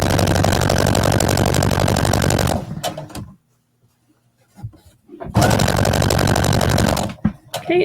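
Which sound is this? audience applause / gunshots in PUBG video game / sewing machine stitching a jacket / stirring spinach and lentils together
sewing machine stitching a jacket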